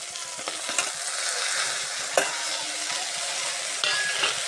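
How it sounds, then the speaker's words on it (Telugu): Cut tomatoes are stirred into a hot frying pan of fried vegetables, giving a steady close sizzle with scraping stirring strokes and a few sharper clacks of the spoon against the pan. "ఇప్పుడు మనము కట్ చేసి పెట్టుకున్న టమాటకాయలు అందులో వేసేద్దాం"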